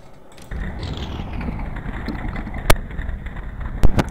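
A 10,000 horsepower dragster engine in the NR2003 racing game, a loud rough rumble that jumps up after a brief quieter start and holds steady, with a few sharp bursts near the end.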